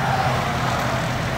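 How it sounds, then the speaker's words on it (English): A truck's idling engine runs steadily at close range, a continuous low rumble with broadband noise and no pauses or talk, stopped during a pre-trip inspection. "Truck still running"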